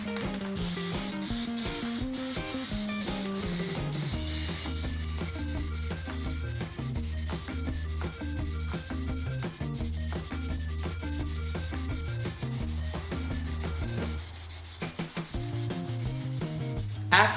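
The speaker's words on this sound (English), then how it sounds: "start spraying down this PlastiDip on the window trim" Steady hissing of PlastiDip aerosol rubber coating sprayed onto car window trim for long stretches, with rhythmic music playing throughout.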